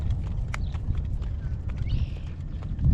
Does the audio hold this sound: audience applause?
no